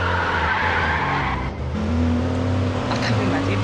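Engine drone and rising tire squeal from a car drifting in the mobile driving game Madout2, loud and steady throughout, with a brief dip midway before the pitch climbs again.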